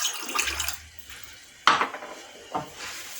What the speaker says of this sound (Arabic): هانتوما شوفوا راه بقى غادي نزيد الماء